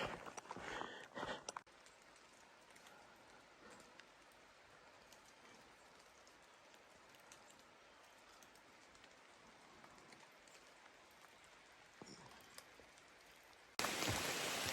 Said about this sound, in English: As you can see, the rain has intensified